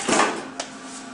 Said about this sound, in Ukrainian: ми відкриваємо дверку для загрузки